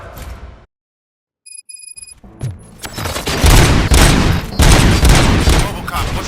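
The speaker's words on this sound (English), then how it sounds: "Gunshots? What's going on?" Gunfire in the RoboCop: Rogue City video game erupts after a brief silence into loud, dense rapid bursts of shots and booms that continue to the end.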